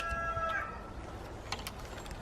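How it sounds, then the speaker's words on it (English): Chickens shut in their run calling and clucking at a distance across a garden, a drawn-out call at the start followed by scattered short clucks over steady outdoor background noise. "the chickens are very noisy today because they're all locked in, and so they're shouting to one another across the garden"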